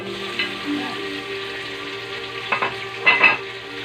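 Crushed tomatoes frying in a pan for chicken tinola, a steady soft sizzle with brief louder bursts of stirring, close and with no talk.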